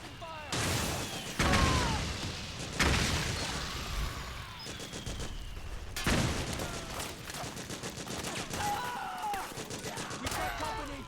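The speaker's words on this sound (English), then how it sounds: "Suppressing fire!" Bursts of gunfire from a Metal Gear Solid 4 firefight, with sharp repeated volleys and rattling shots hitting every few seconds while soldiers shout over the din.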